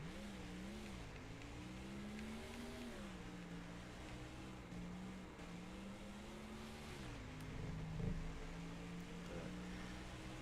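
A NASCAR stock car engine from the NASCAR Thunder 2004 racing game drones steadily throughout, its pitch rising and dipping as it revs, with a brief louder surge near the end and no talking.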